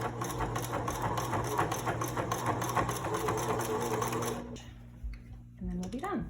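A sewing machine runs steadily, stitching over the pleats of a fabric face mask, a fast continuous mechanical hum and chatter that stops partway, leaving a few faint handling noises.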